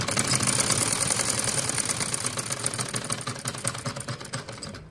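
A sewing machine stitching fabric for a poncha hem, a loud, fast and even mechanical rattle running throughout and easing slightly toward the end, with no talking.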